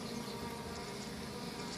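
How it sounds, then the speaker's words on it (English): A dense swarm of bees at a beehive gives off a steady, continuous buzzing drone, moderately close and unbroken, with no voices heard. "Meanwhile, in the beehive, a lot of bees."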